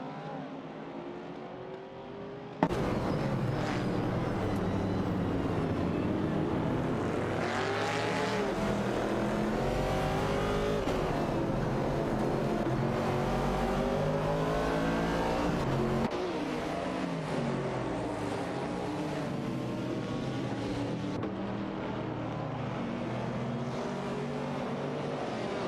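A Porsche 906 and an AMC Javelin race in a video game. Their engines burst in loudly after a quieter start, then hold a steady, roaring drone with shifting pitch sweeps that keep going to the end.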